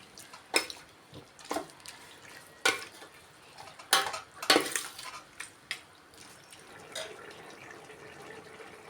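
Beef and tapioca stirred together in a cooking pot, with the beef already pressure-cooked. A spoon scrapes and clinks against the pot in irregular close bursts, with soft sloshing between strokes and no talking.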